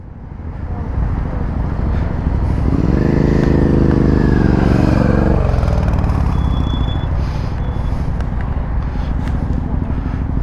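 Motorcycle engine revving hard and pulling away as the clutch is dumped mid U-turn on an incline, a loud rising roar that peaks and then fades as the bike moves off, with brief voices nearby.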